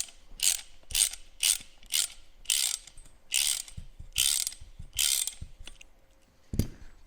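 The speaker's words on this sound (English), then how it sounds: "you're going to need a wrench to get them in there because they ain't going to go in by hand" A wrench ratchets nuts tight while a KEMIMOTO soft top is fitted to a 2023 Polaris Ranger 1000XP UTV, with about eight loud, close bursts of clicking in a steady back-and-forth rhythm.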